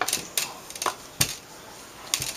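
An LED backlight for an LTM150XO-L01 LCD panel being pushed into place, sharp plastic clicks coming one at a time at an irregular pace, close and fairly loud, with no talk.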